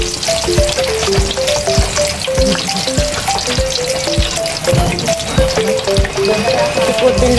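Food frying in oil sizzles steadily and loudly while it is stirred, with repeated spoon scrapes and clicks against the pan.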